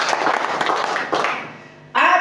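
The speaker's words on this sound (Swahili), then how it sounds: "Pigia Yesu makofi." A church congregation breaks into scattered applause for Jesus, a loose patter of hands that thins out and fades, before a voice begins speaking.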